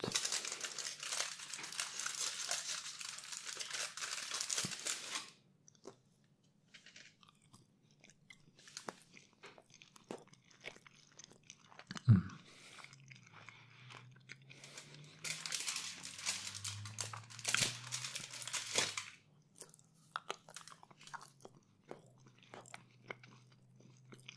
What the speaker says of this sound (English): Let's finish off the video with some more of this cheaper chocolate.